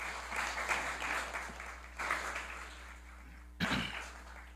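Applause in a city council plenary session honoring someone, a faint, distant patter of clapping across the chamber with a soft low hum underneath and a brief bump near the end.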